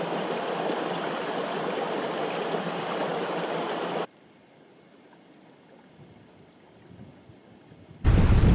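The Glennamong River below Ben Gorm Mountain in the Nephin Beg Mountains of County Mayo rushes in a steady, loud broadband roar that drops to a softer wash midway, then surges loud again at the very end.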